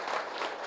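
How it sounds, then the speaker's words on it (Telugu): An audience at a meditation event clapping together, a brief dense burst of close applause with no talk. "గట్టిగా క్లాప్స్ కొడదాం"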